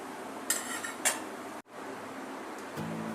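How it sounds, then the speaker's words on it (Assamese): A spoon stirring and scraping basmati rice in a pan while cooking veg fried rice, with two clear metallic clinks over a quiet sizzle. "চাউলখিনি দিয়াৰ পিছত আমি লৰাই দিম ধুনীয়াকৈ"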